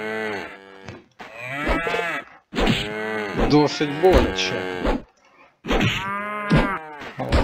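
Cows mooing in the video game SurvivalCraft 2. Several long, loud, drawn-out moos come in separate bursts with short gaps between them, and a brief spoken line is heard among them.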